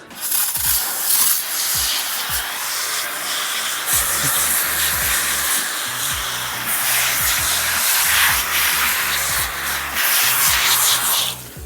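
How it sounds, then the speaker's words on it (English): Continuous loud hissing spray of degreaser foam onto a car engine goes on for several seconds with short pauses, over a low rhythmic mechanical hum in the background. "we're just going to start to spray foam all over this engine"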